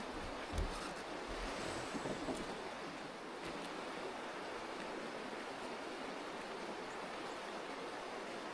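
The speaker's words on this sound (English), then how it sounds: "I love the sound of this creek." A high-country creek off a mountain highway rushes steadily, a broad even wash of flowing water that stays constant throughout with no voices.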